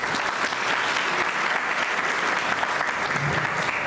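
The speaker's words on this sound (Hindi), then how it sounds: "एक बार इनके लिए ताली हो रहा है" Audience applause at a school AI event at St Austin's, a steady dense wash of clapping from many hands held at an even level throughout.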